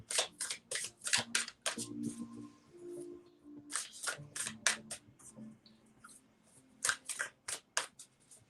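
A tarot card deck being shuffled by hand, repeated crisp riffling bursts in quick irregular runs with short pauses, close and fairly quiet.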